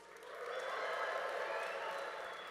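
An audience at the Preservation Forward main program bursts into applause and cheering, a broad wash of clapping that swells quickly, holds steady and begins to fade, with no talk over it.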